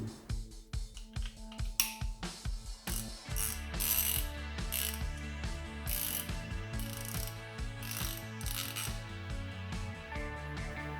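A Stahlwille ratchet turning a Bahco deep socket, close and dry: a run of quick irregular clicks, then a denser buzzing ratchet whir with short gaps.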